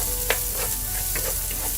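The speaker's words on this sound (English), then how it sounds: "we're going to start by sauteing our onions" Onions sauteing in oil in a pan, a close, steady sizzle with a couple of quick stirring scrapes over a brief moment, no voices.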